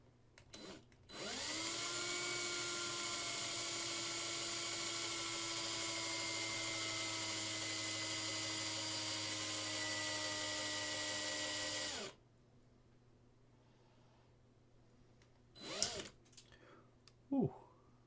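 A power drill drilling into a resin model kit whirs at a steady high pitch for about ten seconds, then stops as the bit breaks off; faint handling noises and brief tool bursts follow near the end.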